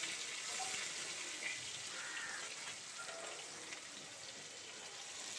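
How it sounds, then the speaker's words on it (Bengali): Chopped onion hitting hot oil in a pan while cooking cauliflower, giving a steady, dense crackling sizzle that holds evenly throughout with no talking. "এখন আমি এর মধ্যে পেঁয়াজ কুচি দিয়ে দেব।"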